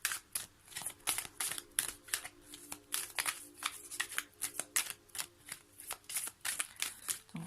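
Oracle cards are handled for a weekly tarot reading, a steady run of crisp, close shuffling riffles and flicks repeating rhythmically with no talking.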